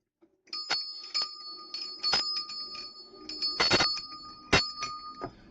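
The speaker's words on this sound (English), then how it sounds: "I feel like I need to ring my bell." A small bell is struck repeatedly in an irregular rhythm, each ring clear and close and fading into a short shimmering tail, heard in a quiet room.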